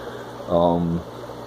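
An air stone bubbles in a floating bed filter bottle inside a freshwater or brackish aquarium, a short burst of bubbling and gurgling over a steady background hum, with a voice speaking nearby.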